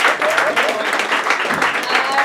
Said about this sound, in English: Can we have another round of applause there for Chip Hammond?